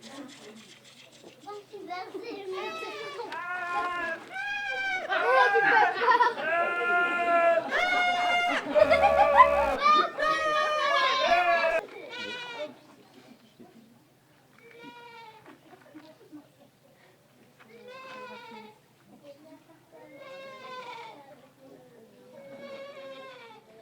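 Sheep bleating during a theatre stage play: a dense cluster of overlapping bleats rises to a loud burst, then thins to scattered separate bleats with pauses between them.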